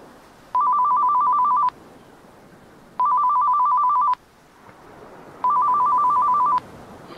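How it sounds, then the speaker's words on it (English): A telephone rings three times in evenly spaced, loud electronic bursts, each about a second long, with quiet gaps between the rings. "someone get the phone!"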